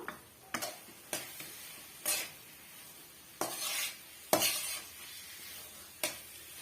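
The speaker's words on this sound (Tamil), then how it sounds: "ஒரு முறை கிண்டி விட்டுட்டு ஜஸ்ட் வந்து ஒரு நிமிஷத்துக்கு மட்டும் நம்ம வதக்கி விட்டுக்கலாம்" Ragi mixture being stirred and sautéed in a pan, heard as a quiet background sizzle broken by about seven sharp spoon scrapes and clanks against the pan at irregular intervals.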